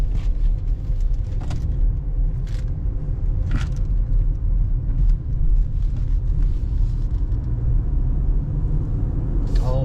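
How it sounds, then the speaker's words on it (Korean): A BMW X4 SUV on a test drive gives a loud, steady interior engine and road rumble with a few brief clicks and knocks, under occasional faint talk. "네, 시운전을 간단하게 한번 시작해 보도록 하겠습니다."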